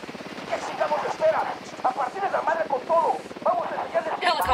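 A video game helicopter's rapid rotor thumping runs steadily under shouted voices and radio chatter, ending in a short sharp burst.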